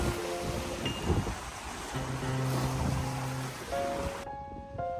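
Sea waves wash in steadily before sunrise, a continuous broadband surf with a few faint tonal hums mixed in, no voices.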